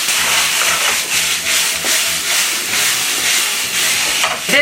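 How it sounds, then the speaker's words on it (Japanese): Thin strips of cornstarch-coated sliced pork sizzle over high heat in a pan for a Chinese-style pepper steak stir-fry, a loud continuous hiss with faint scraping, no talk. "まずお肉を炒める。"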